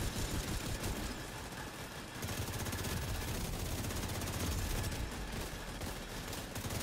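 Dense, continuous automatic gunfire in a Tom Clancy's The Division 2 firefight, loud and sustained with overlapping rapid bursts and a brief dip partway through, no voices.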